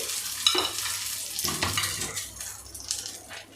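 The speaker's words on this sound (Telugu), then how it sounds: "పోపు పెట్టేసుకోవడమే ఈ విధంగా రైస్ పైన ఇలా చేసుకుని" A short burst of hot oil sizzling as tempering is poured over bisibelebath rice, followed by softer crackling that fades.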